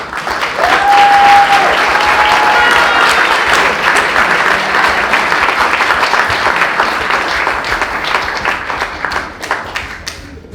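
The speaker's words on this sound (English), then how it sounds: "Let's have a round of applause for Erica Blue." Loud, sustained applause from a large audience, steady clapping that fills the space for about ten seconds before slowly tapering off.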